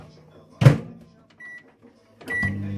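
A microwave oven gets loaded with a liquidy dish: a sharp door thud, a short electronic beep, then the low steady hum of the oven starting to run.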